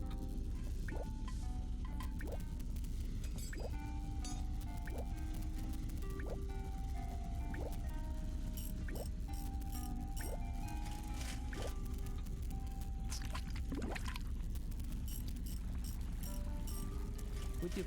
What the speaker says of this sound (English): I could hear water flow through the pipes to another part of the building.